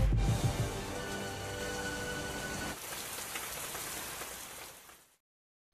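Heavy rain pours in The Larva Island animated movie, a dense, loud hiss of drops that thins a little midway and then cuts off abruptly to silence.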